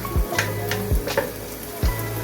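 Onions frying in hot oil in a pan for beef qeema karahi, a soft sizzle with a few sharp knocks or taps spaced about a second apart.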